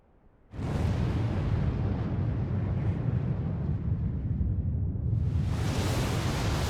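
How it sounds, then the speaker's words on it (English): A laser attack in the Final Fantasy XIV video game ends in a huge explosion, a sudden loud blast that turns into a sustained roaring rumble and then surges again near the end, with no speech. "Explosion."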